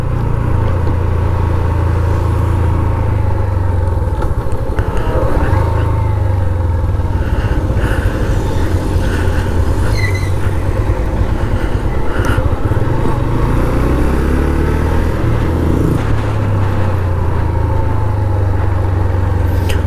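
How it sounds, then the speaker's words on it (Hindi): A Honda CB 150F motorcycle from 2021 rolls slowly downhill in low gear on a hill road, its engine giving a steady, close mid-pitched drone with little change in revs for the whole stretch. "स्लोली स्लोली अपना बाइक लेके आए नीचे।"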